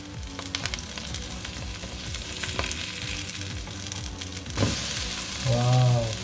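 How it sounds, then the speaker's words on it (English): Chickpea veggie burger patties fry in a pan over medium-high heat, giving a steady, fairly close crackling sizzle that swells slightly near the end, with no talking. "Now just let it cook for about 4 minutes on each side on a medium-high heat."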